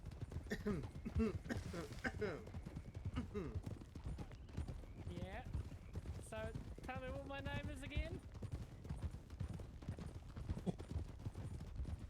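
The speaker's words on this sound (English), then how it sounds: "I can't hear you from the horses." Horse hooves clip-clopping in the Red Dead-based WildRP game, a rapid continuous patter of several horses close by, running under people talking over voice chat.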